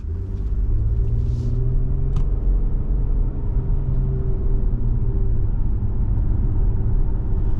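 A 2024 Nissan Murano SL AWD's V6 engine rumbles loudly and steadily as it pulls away, a deep continuous drone with the hum of tires on the road.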